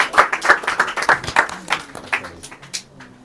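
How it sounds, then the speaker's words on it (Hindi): An audience claps together in quick, steady rhythm at a mobile repairing institute's diploma ceremony, loud and close at first, then thinning out and fading as the applause dies down. "तालियां कम हो रही है,"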